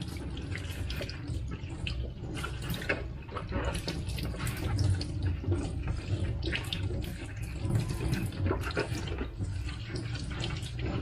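An LS2 motorcycle helmet visor is rinsed under a running tap, giving a steady, moderately loud splashing and gurgling of water that continues without speech.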